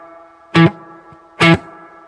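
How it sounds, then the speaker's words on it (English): Roland RE201 Space Echo VST plugin set to its reverb preset: two short, loud plucked hits about a second apart, each fading into a brief reverberant tail over a steady low tonal hum. "RE201 Reverb."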